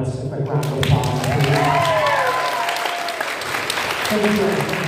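An audience at a romantasy book convention panel in Orlando breaks into applause for the panelists. The clapping is loud and steady, and voices and cheering carry over it.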